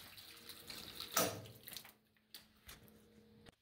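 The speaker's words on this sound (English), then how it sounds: "While the water heater is draining" Water from a household water heater draining out through a hose, a soft close trickle and splash with a brief louder gush partway through, then fading to faint drips and handling noises.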